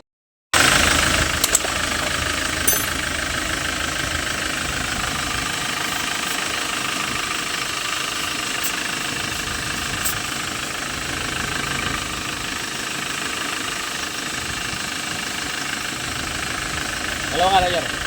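A Hyundai Porter II double cab's D4CB Euro 4 diesel engine idles loud and close with a steady, even rumble and knock that runs unbroken from start to end.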